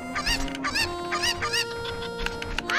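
Chickens clucking and squawking in the video game Zelda: Ocarina of Time, several sharp repeated bird calls close up, alone without speech.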